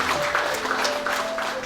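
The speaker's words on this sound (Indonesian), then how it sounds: "Tepuk tangan atas kesempurnaan" An audience at a network marketing leadership talk applauds in a dense, continuous wash of clapping that fills the whole short moment, with a faint steady tone running underneath.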